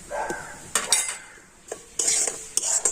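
Semolina (suji) lightly toasting in ghee, stirred with a utensil that scrapes and clinks against the pan in irregular bursts, over a faint sizzle, close and moderately loud, no voices.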